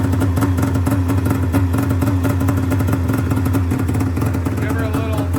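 A 1998 Ski-Doo Mach Z snowmobile with an 809 engine runs loudly and close, a dense continuous engine roar with steady throttle, not quite warmed up.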